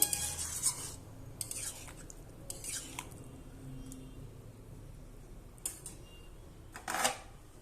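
Dal with drumsticks and pointed gourd being stirred in a pan, a few sharp scraping and clinking strokes of a spoon against metal, scattered among quieter stretches and close to the listener.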